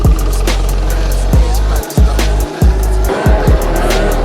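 A dragster minibike's small engine revs hard in repeated bursts during a wheelie, with loud rising and dropping blips and brief gaps between throttle pulls, recorded up close.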